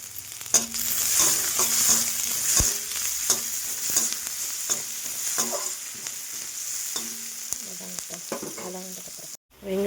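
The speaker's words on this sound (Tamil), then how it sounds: "2 வெங்காயம், ஒரு காஞ்ச மிளகா வதங்கட்டும்." Onions and dried chili sauté in a pan, a steady hissing sizzle with repeated scrapes and clinks of a stirring spoon, close and fairly quiet.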